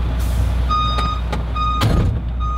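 A Volvo truck reverses in back gear, with evenly spaced, high-pitched reversing beeps repeating over a loud, steady diesel engine rumble and a brief hiss of air, close by and with no talking.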